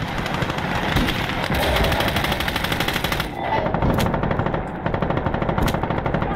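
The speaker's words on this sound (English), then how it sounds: "This MG is amazing though" Sustained bursts of radio-controlled machine gun fire in the World War II game Call to Arms: Gates of Hell, rapid loud rattling volleys with brief pauses between strings of shots, up close and without speech.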